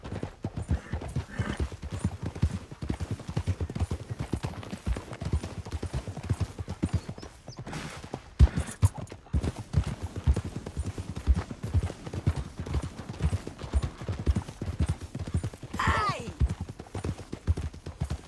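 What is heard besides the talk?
horse hooves in video game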